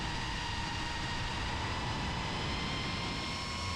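An iFlight ProTek35 FPV drone flies over a huge swollen river, giving off a constant high-pitched motor whine with layered harmonic tones above a steady wash of noise.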